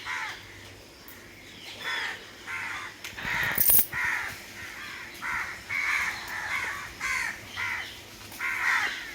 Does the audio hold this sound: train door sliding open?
no